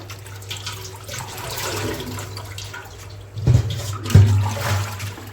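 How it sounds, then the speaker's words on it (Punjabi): Water sloshes and splashes as excess dye water is poured off a tie-dyed scarf, with a low steady hum underneath and two louder gushes near the end. "ਐਕਸਟਰਾ ਪਾਣੀ ਨੂੰ ਆਪਾਂ ਡੋਲਤਾ"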